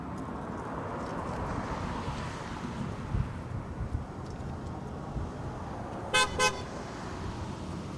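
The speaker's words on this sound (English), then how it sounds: "Literally the loudest horn I've ever heard, just honking at us right behind us." Two short, loud horn blasts ring out in quick succession from close behind, sounding over steady wind and traffic rumble near an airport.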